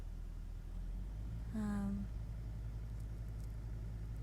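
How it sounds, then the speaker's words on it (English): A 4x4 vehicle with lowered tyre pressure rolls along a one-lane dirt track in Kakadu National Park, giving a steady low engine rumble throughout and a brief tonal whine partway through. "Not bad four-wheel driving"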